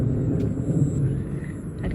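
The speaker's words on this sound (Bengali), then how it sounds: "মেঘ ডাকছে।" Low thunder rumbles across open country near old fort ruins in Purulia, a steady deep roll at moderate distance with no voices over it.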